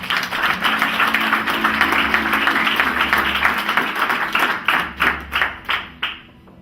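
A church congregation claps hands together in a loud, sustained burst of applause, holding steady for several seconds before breaking into a few slower, distinct final claps as it dies away.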